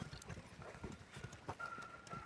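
A horse walks with hooves clip-clopping in an uneven rhythm, fairly faint and at moderate distance, with a thin sustained tone entering near the end.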